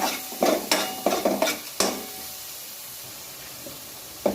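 Masala frying in oil for pea curry, a soft background sizzle punctuated by a quick run of spatula scrapes and taps against the pan, then a quieter simmering hiss with one more stir at the end.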